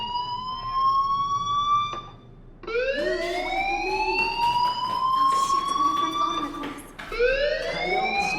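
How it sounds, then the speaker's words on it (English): A wailing fire alarm siren in the video game Life is Strange rises and falls in repeated sweeping tones, loud and continuous, with a few short pauses between cycles. "Hey, do you hear that fire alarm?"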